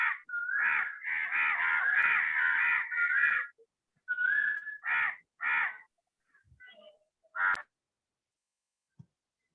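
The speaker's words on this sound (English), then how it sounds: "The birds have also joined our morning conversation, right?" Birds call in the morning, loud nearby caws and harsh rasping calls in bursts, a long run of calls followed by several shorter ones with pauses between, then quiet.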